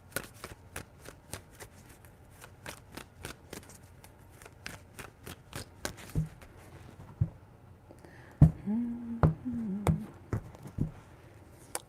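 Tarot cards are riffled and tapped in a run of quick crisp bursts, steady at first, then a few louder handling sounds near the end.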